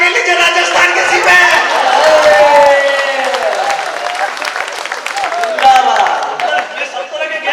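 A live audience at a Hindi comedy poetry gathering applauds loudly and steadily, with cheering mixed in and a performer's voice heard over the clapping.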